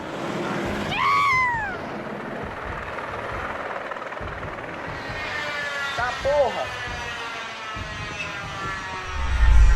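A helicopter's rotor thrum runs steadily through the scene of a helicopter accident in Brasilia, Brazil, mixed with background commotion and brief raised voices.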